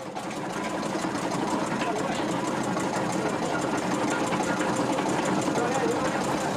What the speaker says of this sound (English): After the sugar cane is harvested, it is put through a grinder to collect the cane juice.